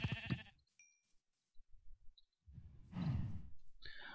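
Blocky Minecraft sheep let out a soft bleat among quiet game sounds, with short gaps of near silence and brief clicks and rustles between calls.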